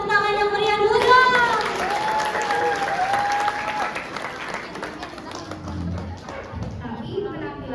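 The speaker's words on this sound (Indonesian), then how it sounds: "berikan tepuk tangan yang meriah dulu dong" An audience applauds after a stage performance before a closing dance, with dense clapping throughout. A voice or music is heard over the start, and the clapping slowly thins out toward the end.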